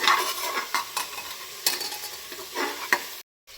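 Tomato and salt being stirred into frying masala, giving a soft sizzle with several distinct spoon scrapes and taps on the pan, moderately quiet and ending in abrupt silence, no one speaking.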